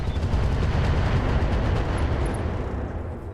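Weapons fire in the video game Roguetech, a BattleTech mod, comes as a loud, dense, unbroken barrage of booming shots and rumbling blasts that barely eases over a few seconds.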